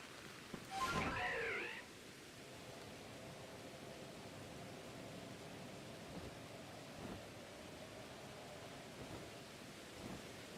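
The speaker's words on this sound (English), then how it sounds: "I would assume some time has passed, considering it's raining." Soft, steady rain hisses as a constant wash of noise in Pokémon Legends: Arceus, with a brief louder burst near the start.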